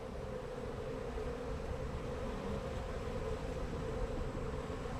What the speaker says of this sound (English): These bees are a bit jumpy here.